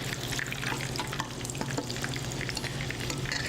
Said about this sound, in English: fill up the skillet again.